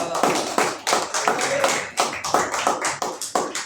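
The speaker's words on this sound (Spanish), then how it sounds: "un aplauso al Señor" A church congregation applauds together at a year-end sermon, a dense patter of many hands with rhythmic surges, close and fairly loud with no voices over it.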